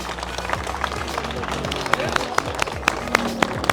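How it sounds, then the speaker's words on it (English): A crowd applauds the volunteer team at a club car show at WIR, a steady outdoor patter of many hands clapping with occasional sharper claps and some voices in the background. "If I could just give a round of applause to the volunteer team that helped make it happen"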